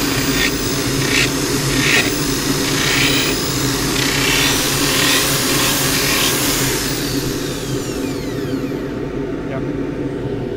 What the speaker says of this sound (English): Just sand this slightly now.